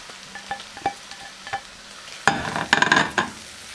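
Garlic and grated onion dropped into a pan with butter and oil, a few light scrapes and taps followed by a burst of close, crackling sizzle as the onion hits the hot fat, no voices.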